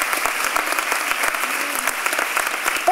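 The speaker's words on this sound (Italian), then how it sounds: "un applauso alla signora Scialla" Theatre audience applause during a stage comedy, dense and lively clapping from many hands, steady and fairly loud throughout with no voices over it.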